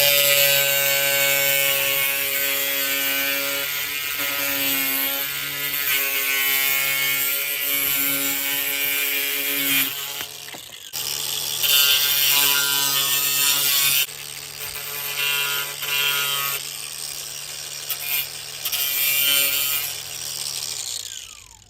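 A cutoff grinder slices and shapes stone fastener covers for a Touchstone Elite stone fireplace wall, giving a loud, continuous high whine that dips briefly twice before resuming at full strength.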